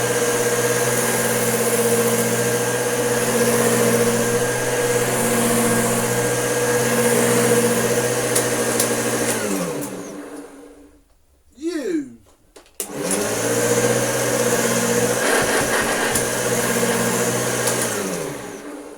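A refurbished Hoover Junior U1104 upright vacuum cleaner runs on carpet with a loud, steady motor whine, briefly winding down and cutting out midway before spinning back up to full speed.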